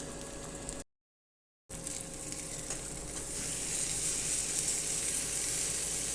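Eggs frying in a pan, a steady close sizzle and hiss with a brief dropout of silence before the crackle returns slightly louder.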